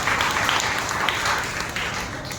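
Congregation applauding together inside a Telugu Baptist church during a Sunday worship service, a steady dense wash of many hands clapping throughout.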